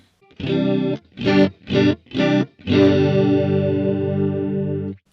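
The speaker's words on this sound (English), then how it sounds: "So that's how the chorus sounds." Electric guitar played through a VOX AC30 amPlug 2 with the chorus effect on and a clean tone: four short strummed chords, then one long ringing chord that sustains and fades, loud and alone.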